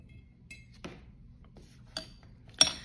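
A paintbrush and a cup of paint water clink and tap while the water is changed during a color-mixing demonstration, with a few sparse, light knocks spread apart and one sharper clink near the end over a quiet background.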